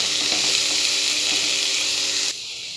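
Beef being stirred into masala paste in a frying pan, Kerala-style beef fry: a steady, loud sizzle with scraping stir sounds close up, cutting down to a quieter hiss near the end; no one speaks.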